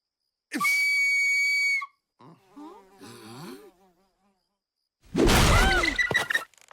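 A flute whistle sounds a long, high, steady note to call a bird, followed by chattering warbled tones and then a loud, noisy burst of commotion.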